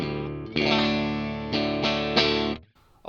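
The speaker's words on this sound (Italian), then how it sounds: "Spengo anche il compressore e quindi sentiamo il suono." An electric guitar played through a MOOER Preamp Live with the compressor switched off rings out in sustained, distorted chords with several fresh strums. It sounds close and alone, then cuts off into near silence at the end.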